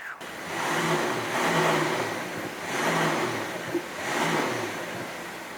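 Porsche Panamera 4S accelerating on the road, its engine surging and easing in repeated waves beneath steady road and tyre noise, heard close from inside the car with no talking.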